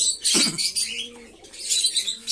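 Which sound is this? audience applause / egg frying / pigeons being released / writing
pigeons being released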